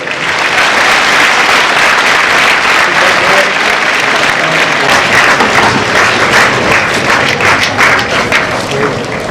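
A crowd claps steadily and loudly at a high school inauguration, the applause continuous and dense across the whole stretch.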